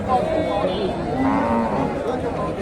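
Friesian cross cows at a busy rural cattle market in northern Bangladesh, one lowing with a drawn-out moo amid livestock noise and background crowd chatter.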